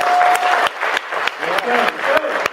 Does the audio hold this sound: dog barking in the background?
no